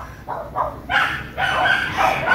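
A dog barking a few times at some distance in a woodworking shop, short gruff barks in quick succession.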